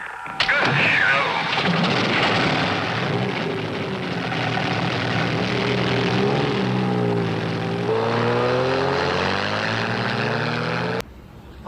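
A Triumph Spitfire 1500 sports car drives with its engine droning steadily and revving through changing pitch for several seconds before cutting off abruptly near the end.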